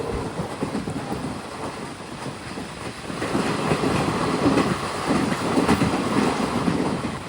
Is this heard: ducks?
no